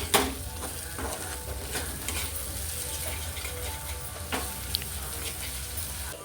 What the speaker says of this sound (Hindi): तो मेरे टमाटर और प्याज मिर्च सारे भुन गए थे, तो फिर मैं अंडे डाल दी और फिर इसे अच्छे से मिला लूँगी।